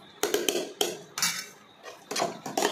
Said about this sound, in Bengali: ঘি দিয়ে আমি সুন্দরভাবে নাড়িয়ে নিচ্ছি